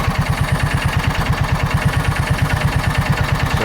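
A John Deere Gator 4x2 utility vehicle engine idles low and steady, with an even rapid chugging pulse and a faint mechanical rattle throughout. The idle speed sits around 1,100 rpm.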